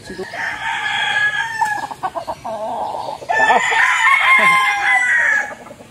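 Young roosters (stags) crow on a backyard farm, two long, loud, harmonic cock-a-doodle-doo calls close by, with clucking and scattered bird noise between them.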